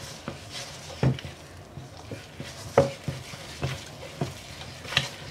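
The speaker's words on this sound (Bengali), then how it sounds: "এভাবে আপনাকে নাড়তেই থাকতে হবে" Herbal powders are stirred into honey with a utensil, making a series of soft, sticky scrapes and light knocks against the container at an irregular rhythm, close up and moderately quiet.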